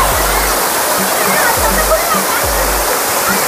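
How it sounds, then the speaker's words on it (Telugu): Talakona waterfall near Tirupati roars loudly and continuously at close range, a dense broadband rush of falling water filling the whole scene. "మన వెనకాల అయితే ఉంది మరొక జలపాతం"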